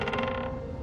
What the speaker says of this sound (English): Floorboards creak under your step.